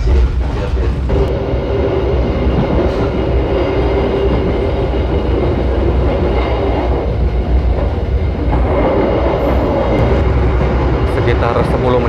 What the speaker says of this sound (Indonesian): kereta api Sembrani saat ini posisi melaju dengan kecepatan rata-rata sekitar 90 km per jam